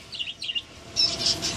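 Small caged birds in a pet store, parakeets and zebra finches, give repeated high chirps and tweets, soft bursts early then a denser, louder run of calls, with no one talking.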